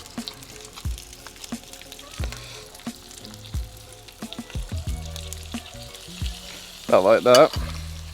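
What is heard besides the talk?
flour cooking in bacon grease for roux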